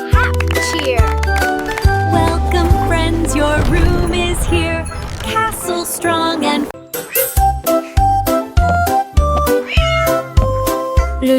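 A cat meows repeatedly over a bright children's song with jingling, tinkling percussion, the calls blending into a busy, loud musical backing that turns choppy and rhythmic toward the end.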